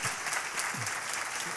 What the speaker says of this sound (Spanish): yo creo que se merecen un aplauso por sus aportaciones